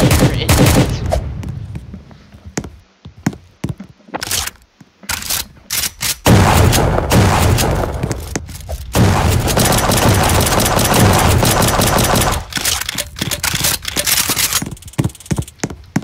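Gunfire in the Roblox game Prison Life, with loud rapid bursts and repeated shots that sometimes run into sustained stretches, mixed with game noise and some voice activity.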